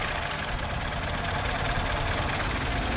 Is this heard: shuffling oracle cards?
no